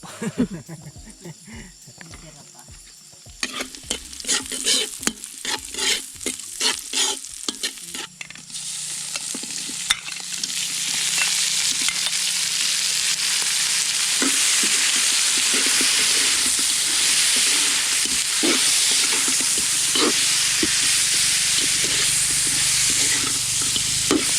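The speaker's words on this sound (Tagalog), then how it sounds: "Para habang umiinit yung mantika, nandiyan na sila at sibuyas at luyang buo" Onion and whole ginger dropped into heating oil: first a run of clattering stirs and taps, then a sudden rise into a loud, steady sizzle that continues with occasional utensil knocks.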